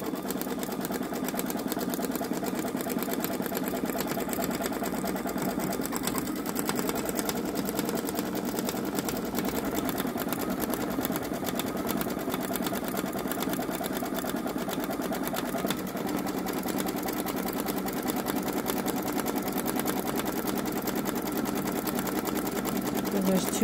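A Babylock Solaris embroidery machine stitches a design onto a T-shirt with a steady, fast, close mechanical whir and rapid needle patter that never pauses, with a voice talking over it.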